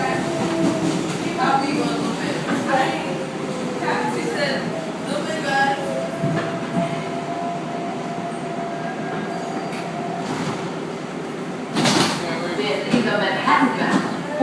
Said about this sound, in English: What? Local train.